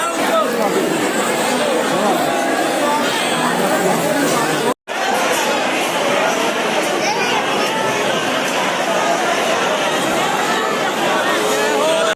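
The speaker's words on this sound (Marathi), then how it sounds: "गर्दी आहे, खूप जास्त गर्दी आहे." Thick hubbub of a large crowd at Ladliji Maharaj temple in Barsana, many voices talking at once in a constant, loud wash, broken by a brief dropout near the middle before resuming.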